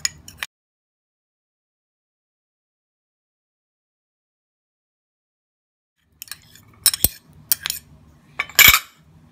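A spoon clinks against a bowl while mixing rice flour and curd for a face mask, a brief tap at the start, then silence, then several sharp metallic clinks and scraping near the end.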